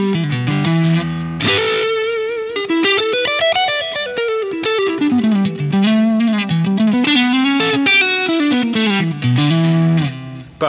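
An electric guitar plays a riff through a crunchy, lightly distorted Orange OR80 amp tone in a Helix, with chords and single notes ringing out loud and clear.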